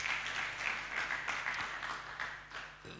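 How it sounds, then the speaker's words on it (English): A church congregation applauds together, a dense, steady wash of many hands clapping that continues for several seconds before slowly thinning out. "Give yourselves a clap."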